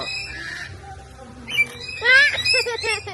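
Birds at Cebu Safari park give harsh, loud squawks close by, a few raspy calls rising in the second half while people murmur softly in the background.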